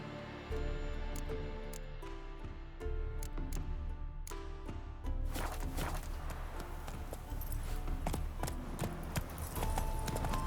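Roach the horse trots along a road in The Witcher 3, a steady clip-clop of hooves running under continuous game music, with no talking.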